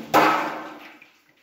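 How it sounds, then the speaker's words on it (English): Hot water hits the pan of a chafing dish in one sudden splash that quickly fades into a soft trickling wash, brief and close with no talk. "I put my hot water"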